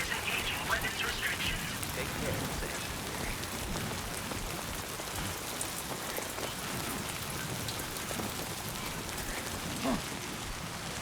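Timefall rain in the video game Death Stranding 2 pours as a steady, dense patter on surfaces, continuous and fairly soft, with a voice talking over it.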